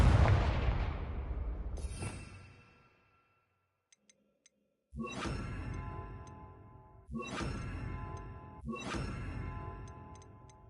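Blasting spell Confringo cast in Hogwarts Legacy: a loud booming burst that fades out, a short silence with small clicks, then three more crackling blasts in quick succession.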